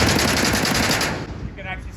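Rapid bursts of fire from a Planet Eclipse EGO LV1.6 paintball marker: a fast, loud string of sharp cracks for about a second, then a quieter tail of room sound.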